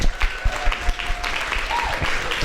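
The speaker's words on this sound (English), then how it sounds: "we have one last round of applause and thank you to our guests for coming to visit us" A short burst of clapping from a small group at a university debate, loud and close, with uneven individual claps.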